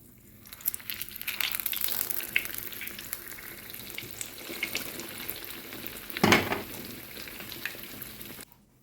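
Steady sizzling and crackling of belyashi dough pastries frying in plenty of hot oil, continuous and close, with occasional louder bursts and no talking.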